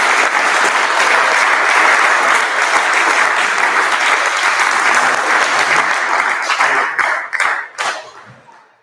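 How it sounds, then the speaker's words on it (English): An audience applauds loudly and steadily, dense clapping holding for about seven seconds before thinning out and fading at the end. "I'd love for you guys to give a round of applause"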